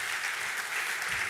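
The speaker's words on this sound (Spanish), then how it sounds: "Un aplauso para nuestros hermanos acá." Church congregation applauding, a dense, even wash of clapping from a crowd of many hands that holds steady and fairly soft throughout, with no break or speech over it.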